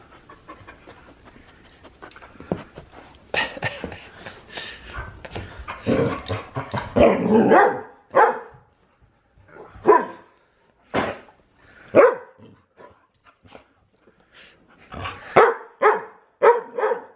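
Dogs barking close by, with short, loud bursts coming in irregular clusters, broken by panting and brief quiet gaps.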